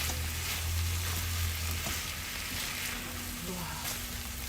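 Shrimp pan-frying with parsley sizzle steadily in a hot pan, a loud, even crackle throughout with a few stirring scrapes and a voice talking over it.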